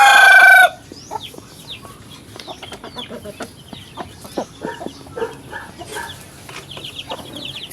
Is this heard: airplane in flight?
no